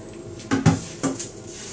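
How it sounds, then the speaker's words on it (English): Tempering stirred into leftover cooked tapioca in a pan at home, giving a few brief scraping clinks of a spoon against the pan, two louder knocks close together and a third a moment later, with quiet kitchen background between. "I will mix nicely so it can coat each and every tapioca."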